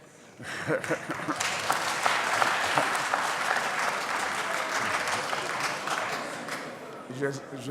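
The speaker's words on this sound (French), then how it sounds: "Je note que cette préoccupation a été particulièrement applaudie par les députés." Deputies in the National Assembly applaud a president's speech, a dense, sustained round of clapping that swells after a brief start and holds steady for several seconds, with faint voices underneath.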